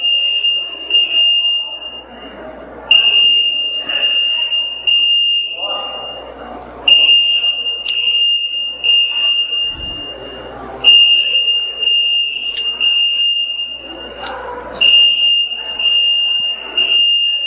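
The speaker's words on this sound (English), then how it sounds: "False alarm." A fire alarm sounds in a gathering hall, its steady piercing tone pulsing on and off repeatedly while several people talk underneath.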